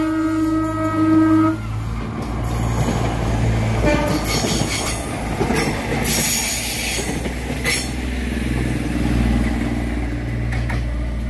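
A train bound from Cicalengka to Yogyakarta, Indonesia, rumbles past close by, with wheels squealing and rattling over the rails, a brief horn-like tone near the start, and steady clatter throughout.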